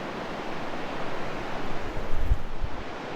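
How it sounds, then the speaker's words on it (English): Pacific Ocean surf roars on a driftwood-strewn beach off US Highway 101 near Forks, Washington: a loud, continuous wash of breaking waves, with gusts of wind buffeting the microphone and no voices. "They're walking their dogs on the beach with the roar of the ocean"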